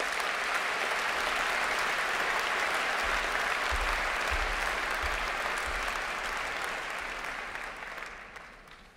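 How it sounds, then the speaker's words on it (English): Applause rises from the audience at a postgraduate graduation ceremony for medicine and natural sciences graduates, a dense sustained wash of many hands that fades out toward the end, with faint low thuds near the middle. "Please join me in a round of applause for the graduates."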